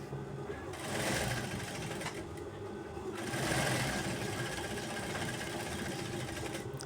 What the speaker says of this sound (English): I use pins to hold my pockets so that my fabric will not shift. And then I top stitch.